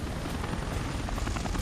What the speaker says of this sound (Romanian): Hai că mai niște elicoptere, mare brânză.